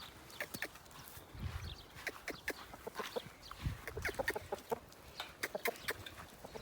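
Chickens and a rooster cluck and call close by in a backyard flock, many short sharp bursts in an uneven busy rhythm, with no talk over them.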